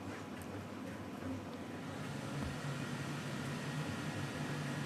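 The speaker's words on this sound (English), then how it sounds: "Centauri Carbon fan. It's loud." Loud cooling fan of an Elegoo Centauri Carbon 3D printer, a steady broadband whoosh with a low hum, running constantly and close for the whole stretch.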